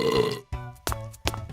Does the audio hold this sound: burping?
yes